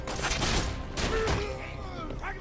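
A pistol with infinite ammo fires in rapid bursts during Borderlands 2 gameplay, giving dense, crackling gunfire with booming impacts and game effects, while players talk over it.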